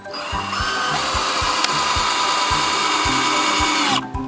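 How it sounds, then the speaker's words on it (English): A cordless drill bores into wood while building a raised garden bed: a loud, steady motor whine runs nearly unbroken for about four seconds, then cuts off, with no talk. "All right, let's keep drilling."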